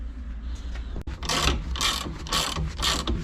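A hand ratchet tightens the 21mm nut on the strut shaft of a Volvo S60 front shock absorber, giving several loud, close bursts of rapid clicking after a single sharp knock.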